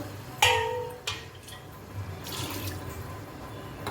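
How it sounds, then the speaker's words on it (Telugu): A couple of sharp knocks, then water splashes and pours into a pan of fish curry, rising for a moment before settling into a soft trickle. "ఇప్పుడు కొంచెం ఒక గ్లాస్కి అయితే వాటర్ వేసుకుంటున్నాను"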